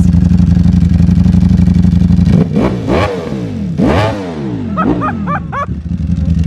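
A V4 SP sport motorcycle with a Termi titanium exhaust idles with a steady low rumble, then revs sharply several times in quick bursts, rising and falling, loud and close.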